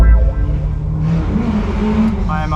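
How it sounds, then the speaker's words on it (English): A drift car's engine revs hard in third gear on the Luddenham Raceway track, a loud, sustained tonal howl that rises and holds close by, with a brief burst at the start. "the car is just absolutely singing"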